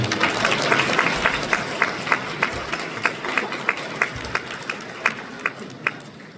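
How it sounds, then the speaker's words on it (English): Crowd applause at a Minnesota Hmong Chamber of Commerce gala night, a steady wash of many hands clapping with sharper individual claps standing out near the listener, continuing for several seconds. "you all deserve a huge round of applause tonight"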